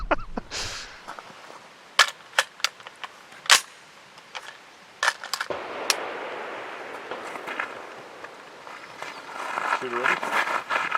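Sharp, loud .45-caliber pistol shots crack out one by one at an outdoor range during cold start shooting tests, with a voice in between and steady background noise.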